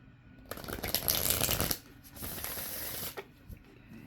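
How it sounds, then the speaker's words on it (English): A deck of tarot cards riffled and shuffled by hand, close papery fluttering bursts, one long riffle followed by a second shorter one and a few soft taps. "one more shuffle and then we'll cut the deck."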